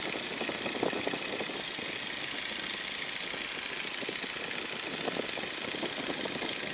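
A small airplane's engine drones steadily in flight, heard from inside the cabin as a constant close hum with a faint rhythmic throb and no voices.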